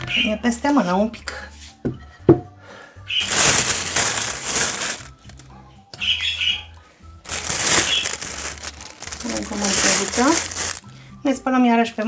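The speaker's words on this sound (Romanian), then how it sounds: "legăm punga și asta e gata de cuptor." Plastic oven bag holding chicken legs crinkles and crunches in bursts as it is gathered and tied, with talk before and between the rustling.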